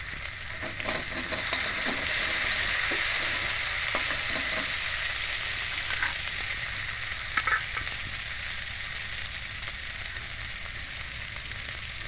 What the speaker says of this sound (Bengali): মশলাটা একটু লাল লাল লাল লাল ভাজা হচ্ছে